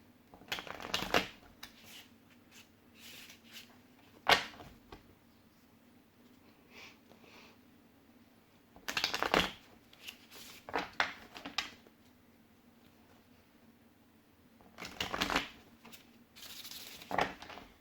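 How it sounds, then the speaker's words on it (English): Several bursts of cards being shuffled, riffling quickly in short spurts separated by quiet pauses, close up. "This deck is hard to shuffle."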